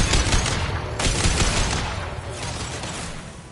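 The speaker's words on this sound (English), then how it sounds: "Firing an impact shot!" Heavy gunfire in the video game Mass Effect, an impact shot, loud and booming with a couple of strong blasts early and a rumbling, fading tail afterward.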